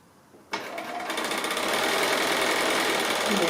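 A sewing machine starts abruptly and runs steadily, a fast rhythmic mechanical whir with rapid stitching clatter, close and continuous.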